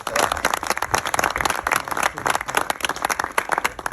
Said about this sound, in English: How much did you pay them to clap there?